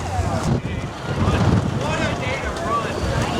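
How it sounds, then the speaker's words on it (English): Strong high wind blasts across an outdoor microphone in a steady, roaring rush with gusty buffeting, loud and continuous throughout, with a voice speaking faintly underneath. "the wind is absolutely brutal right now"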